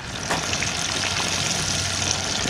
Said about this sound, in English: The fish are frying great.